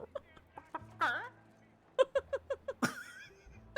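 A person in RedM roleplay voice chat imitates a chicken, giving a run of short, rhythmic clucks with a couple of rising squawks, close and fairly loud.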